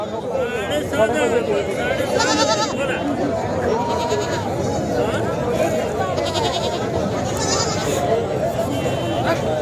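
Goats bleat repeatedly, some close and some farther off, over a constant murmur of people talking and bargaining in a busy goat and sheep market in Sangola.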